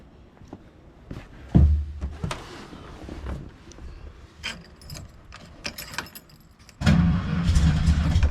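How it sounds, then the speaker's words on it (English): A starter clicks and whirs in short bursts before a car engine catches and settles into a steady, rumbling idle. "And we can use the key to start."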